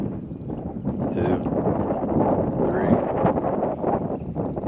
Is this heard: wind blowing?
yes